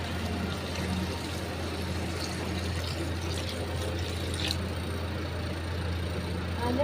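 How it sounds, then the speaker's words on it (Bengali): Water poured into a pot of homemade chicken pulao rice, a steady close wash of liquid running for several seconds over a low constant hum, with no talk. "3 বাটি জল দিয়ে দেবো।"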